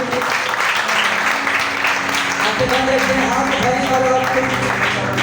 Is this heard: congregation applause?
yes